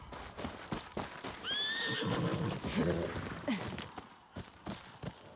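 A horse in the video game Ghost of Yōtei gives a clear, rising whinny and snorts amid hoof clops and game ambience, with someone talking briefly nearby.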